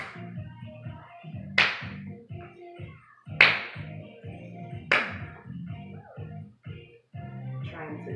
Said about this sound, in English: Trying to clap as many times as I can.